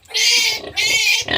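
Newborn piglets of a sow, squealing loudly and close in two long high-pitched squeals followed by the start of another.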